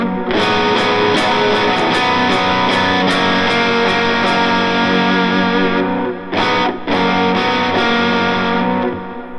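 Electric guitar through a Helix or HX Stomp rig with distortion and chorus plays a sus chord that resolves. It is a loud, dense sustained wash with repeated bright pick attacks, a short dip near the end, then more sustain.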